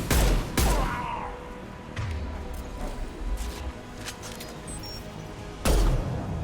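Gunfire in the video game Mass Effect 2: a few loud, sharp shots, one at the start and another near the end, with quieter rumbling combat noise between them.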